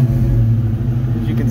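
A car fitted with an ignition interlock device idles with its engine running, a loud, steady low rumble close to the listener throughout, without any audible speech.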